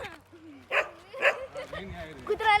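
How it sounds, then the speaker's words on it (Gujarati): A dog gives a few short, sharp barks and yips close by, mixed in with people talking. "કૂતરો કૂતરો કૂતરો"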